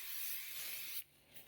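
An aerosol spray can hisses in one long continuous burst into a trash bag, loud and close, then cuts off abruptly before a short second puff near the end.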